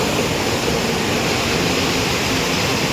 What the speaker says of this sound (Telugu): వాటర్ ఎంత ఫోర్స్ గా వస్తుందో అయితే చూడండి